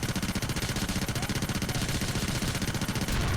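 Rapid, sustained automatic gunfire from the video game Grand Theft Auto IV, a dense, loud stream of shots repeating evenly for a few seconds with no talk over it.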